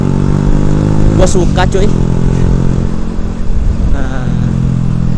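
A Honda Revo FI motorcycle fitted with an R9 racing exhaust idles with a loud, throaty, steady rumble close by, while someone talks briefly over it early on.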